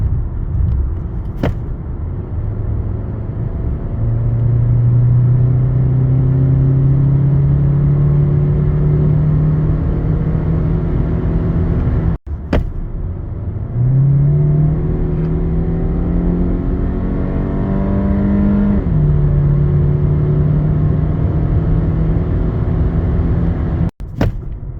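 An MG HS with a 1.5 T-GDI engine and DCT gearbox accelerates hard, its engine droning loudly and rising steadily in pitch through two long pulls, each broken by a brief gear change, heard from inside the cabin.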